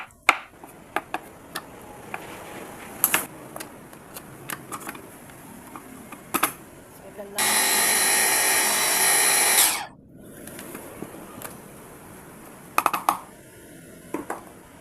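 A blender runs in one steady, loud burst of about two seconds, blending a plant for a homemade hair-growth treatment, with scattered kitchen knocks and clatter before and after.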